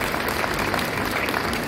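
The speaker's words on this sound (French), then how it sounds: "merci, on peut les applaudir" Brief burst of audience applause for a police commander at a large seniors' meal in Lourdes, dense steady clapping from a sizable crowd.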